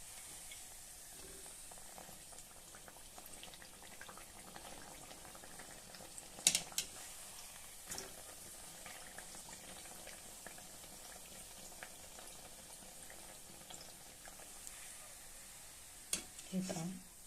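Pumpkin gharge sizzle and bubble steadily in hot oil, a soft continuous frying hiss with occasional louder pops and stirring clinks, fairly quiet throughout.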